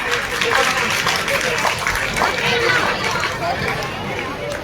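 A crowd at a sports festival opening in Katni applauds, a loud, sustained wash of many hands clapping mixed with chatter and murmuring voices throughout.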